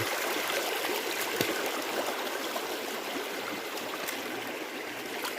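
A river flows with a steady, full rushing and gurgling that stays constant and fairly loud throughout, with no voices.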